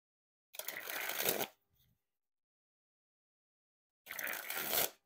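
Two quick springs of Bicycle Trojan War playing cards, each about a second of dense fluttering riffle, separated by a pause with one faint tap, close and quiet.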